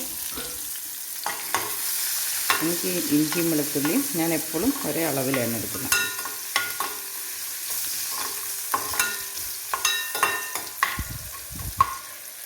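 Ginger and garlic crackle and sizzle in hot oil for pickle, with steady frying and occasional spoon scrapes against the pan while someone speaks over it.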